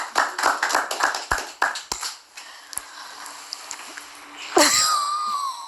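A single person claps hands in a quick run of sharp, close slaps lasting about two seconds, followed by quiet and then a brief squeal.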